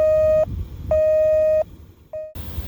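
Satellite acquisition tone from a laptop during VSAT antenna setup: a steady electronic beep sounding in two long pulses and then a short one, clear and close, with no talk.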